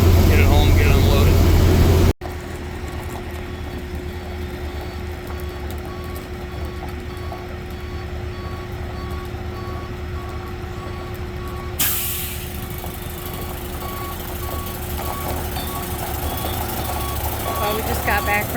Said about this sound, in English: This old dump truck runs so good.